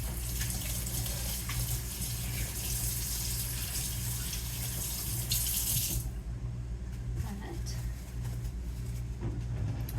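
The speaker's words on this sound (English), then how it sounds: "I'm going to add about a tablespoon of water to it before I let it rest" Tap water runs steadily from a faucet to be added to dry sourdough dough before it rests, a continuous close rushing stream that cuts off partway, leaving quieter kitchen sounds.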